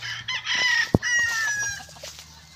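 Chickens on a rural Philippine farm, a rooster crowing loudly up close with hens clucking around it, plus a sharp knock in the middle and some faint background noise.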